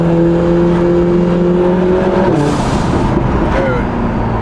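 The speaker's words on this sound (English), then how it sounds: "the pure sound showcase of what is truly the best exhaust system for the 4-cylinder Lotus Emira" A four-cylinder Lotus Emira with a valved sport exhaust, heard loud and close with a steady droning engine tone that shifts and rises into a rasping burst before settling again, with voices present underneath.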